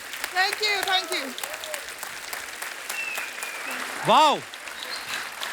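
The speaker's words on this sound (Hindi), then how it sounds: "ओ जोरदार तालियां" A studio audience on a Hindi comedy talk show claps and cheers loudly, while exclamations and sung voices ring out over the applause, with a strong vocal burst near the end.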